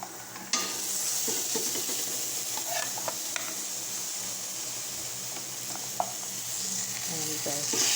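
Boiled pork tapa sears in a hot pan, a loud continuous hissing sizzle that flares as the meat goes in, with a few scattered spatula taps and no talking.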